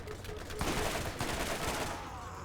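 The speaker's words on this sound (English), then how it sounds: "Who shot that shotgun explosion thing?" Shotgun blasts and explosive gunfire in the Borderlands video game, loud and dense, with a burst of rapid shots rolling through the middle of the clip.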